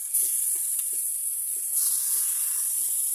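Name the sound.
cabbage frying with crab and ground spices in pan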